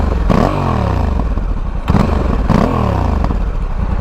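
A Honda Africa Twin CRF1100L DCT motorcycle with its stock exhaust runs loud and close, a rumbling engine note that rises in repeated revs and accelerations and falls back between them.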